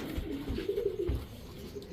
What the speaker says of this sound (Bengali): সুন্দরী একটা নর কবুতর